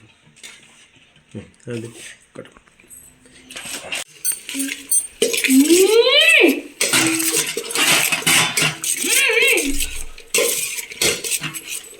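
Puffed rice (charmuri) is mixed with salt and coconut oil in a bowl, giving a steady close rattling, scraping and clinking of utensil against dish that builds into continuous vigorous stirring, with voices talking throughout.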